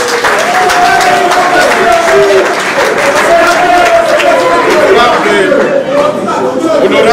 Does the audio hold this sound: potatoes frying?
no